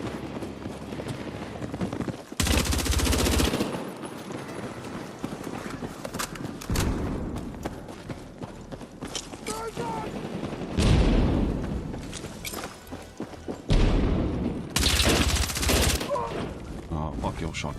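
Shotgun blasts and other gunfire ring out in the video game Battlefield 6, with loud bursts of repeated shots that come in clusters separated by quieter stretches of in-game noise.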